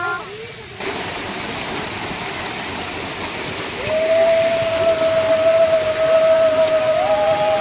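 A small waterfall in a village rushes steadily, broadband and fairly loud, with a thin whistling tone emerging partway through and no clear talk.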